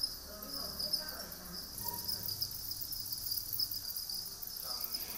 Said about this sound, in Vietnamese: hẳn có thể tưởng tượng được cảnh đang đứng giữa cánh đồng nghe tiếng dế râm ran